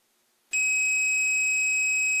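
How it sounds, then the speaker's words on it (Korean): After a half-second of silence, a single continuous electronic beep sounds, steady and clear, holding until the end. "그러면 떼면 여기서는 삐 소리 났지 않습니까?"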